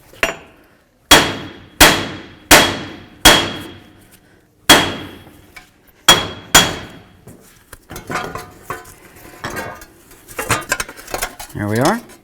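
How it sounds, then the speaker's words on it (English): Sharp metallic hammer blows strike a 2006-18 Jeep Wrangler steering knuckle to break the front wheel bearing hub free: six loud, ringing impacts in an uneven rhythm, followed by softer clanking and rattling of loosened parts. "You can do that typically by hitting along here with a hammer and just try to break it free"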